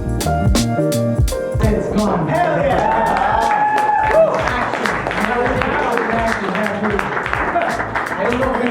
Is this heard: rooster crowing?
no